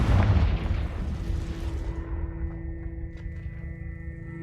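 A deep, booming Confringo spell explosion in Hogwarts Legacy bursts loudly, then rumbles and fades over a few seconds, leaving a low steady hum and faint clinks.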